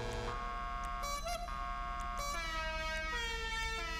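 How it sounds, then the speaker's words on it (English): Air horn on a Hyundai Coupe Tiburon in GTA 5 Online, a loud sustained multi-tone blast with rising and shifting pitches, sounding several times over steady background hum. "Let's take an air horn."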